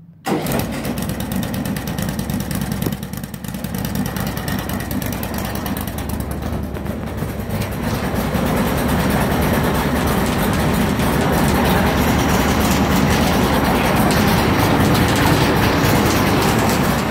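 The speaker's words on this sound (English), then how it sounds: "Startup of the race car." A Bandolero race car engine fires up and settles into a loud, steady, buzzy idle close by, getting louder partway through and continuing without a break.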